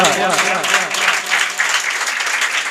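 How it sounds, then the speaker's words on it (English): Steady applause from a school crowd at a Teacher's Appreciation Day celebration, sustained clapping throughout at a moderate distance, with a voice faintly audible underneath. "Clap for her."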